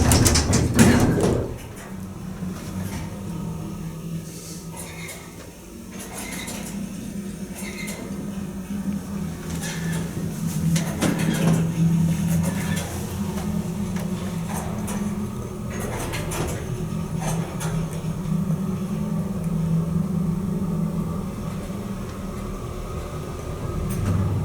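Motor of a 1981 Otis hydraulic elevator at the Holiday Inn Convention Center, a low steady hum and drone running throughout, with clunks, rattles and door-like knocks scattered over it.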